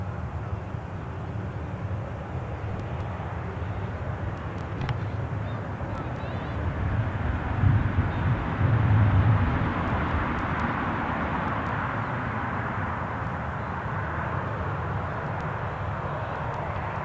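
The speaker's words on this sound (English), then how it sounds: "Ryanair pushing back as this one rolls in." An airliner taxiing at Newcastle airport produces a steady, distant low jet-engine rumble that swells slightly midway and then settles again, with no voices over it.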